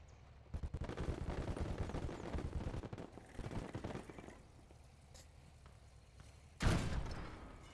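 Gunfire in the World War II strategy game Gates of Hell during a PvP match, a dense stretch of rapid shots and rattling bursts for several seconds, then a lull and a single loud, sharp blast near the end.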